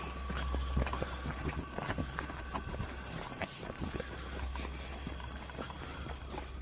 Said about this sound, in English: I hear somebody walking, and it's not our freaking footsteps.